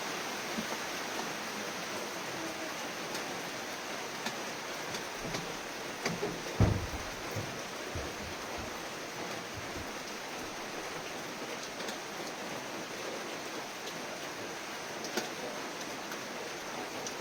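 Heavy rain pours steadily on surfaces outdoors in the Philippines, a dense continuous hiss with a few louder splashes and thumps, no voices over it.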